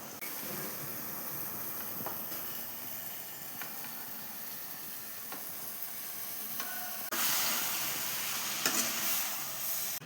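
Cooked rice stirred into fried mint paste in a pan gives a steady sizzle with soft scraping stirs, growing louder and hissier toward the end.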